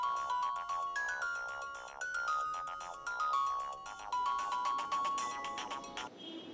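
A mobile phone ringtone plays a bright, repeating melodic tune for several seconds, clear and fairly close, then cuts off abruptly near the end.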